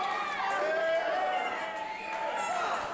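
Crowd noise fills an arena at a wrestling match between Austin Aries and Ricochet, a dense wash of many voices with chatter and shouts, steady and fairly loud throughout.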